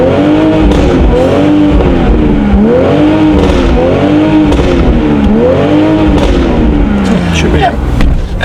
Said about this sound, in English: I'm just gonna rev the exhaust a bunch because it doesn't really pop until it gets hot.